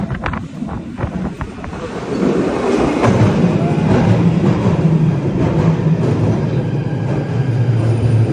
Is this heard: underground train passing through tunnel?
yes